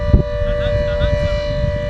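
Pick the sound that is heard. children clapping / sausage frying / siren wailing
siren wailing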